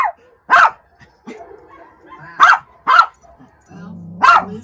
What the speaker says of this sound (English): Those are sled dogs. On the outside of the fence.